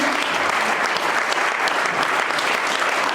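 A church congregation claps and cheers together in worship, a dense, steady wash of applause that holds at full strength from start to finish.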